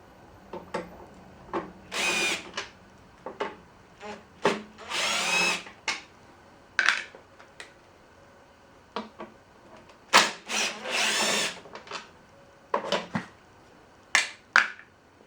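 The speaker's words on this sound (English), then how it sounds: "Let's get some of these screws out." A power drill backs screws out of a Craftsman lawn mower in short whirring bursts of a second or two, repeated many times with clicks and handling noises between them, close up with no talk.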